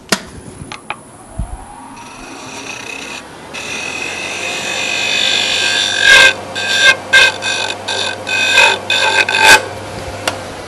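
Wooden sphere being sanded with 120 grit sandpaper on a spinning lathe, a soft steady hiss that builds into louder rasping strokes with sharp scraping bursts near the end.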